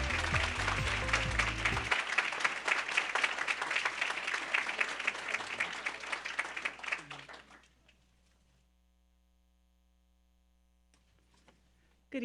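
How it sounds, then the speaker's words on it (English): A round of applause for a coach at a New Orleans school board meeting, dense clapping that goes on for about seven seconds and then stops, leaving near silence and room hum. "Let's give Coach Reese another round of applause."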